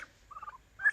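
Young turkeys chirp softly, close by in a quiet space, giving a few brief high peeps with pauses between them.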